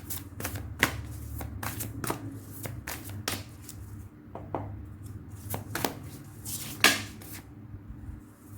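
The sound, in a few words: shuffling oracle cards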